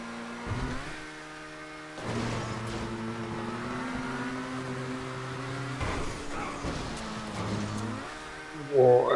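A car engine in a GTA Online stunt race revs and holds steady high revs with gear shifts and throttle changes, loud and continuous for several seconds.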